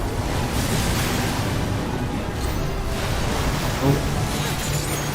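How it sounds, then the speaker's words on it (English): Waves crash on a shore in the Final Fantasy XIV game, a continuous broad roar of surf with wind-like rushing, steady in level with a small bump near the end. "Let the crashing waves cleanse you of your sins"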